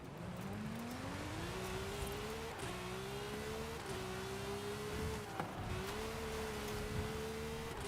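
Golf R engine in the racing game Forza Horizon 5, droning steadily close up with rising revs and brief dips at each gear change, over a faint wash of road and wind noise.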